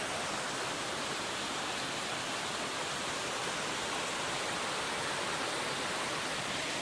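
A fairly large waterfall in the wild roars as a steady, dense rush of falling water, loud and unbroken for the whole stretch with no voices over it.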